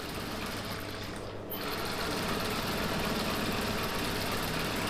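An USHA sewing machine runs steadily for a few seconds, stitching a decorative design stitch with a continuous close mechanical whir and no talk.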